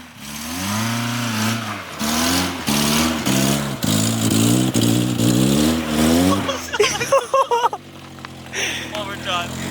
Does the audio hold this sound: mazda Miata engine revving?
yes